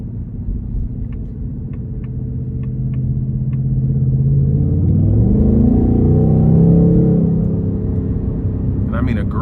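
A 2024 Ford Mustang GT Premium with the 5.0 V8 and exhaust set to sport mode, a deep, steady engine rumble that swells as it accelerates, then holds, with a few faint clicks early on.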